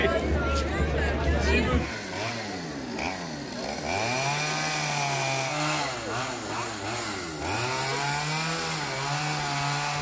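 A chainsaw revs and whines as it carves a wood sculpture, its pitch rising and falling as it cuts, with crowd chatter in the background.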